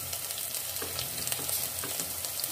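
Ridge gourd sizzles in a pan as ginger is added, with a steady crackling fry and scattered light stirring clicks. It is close and fairly quiet, and there is no talk.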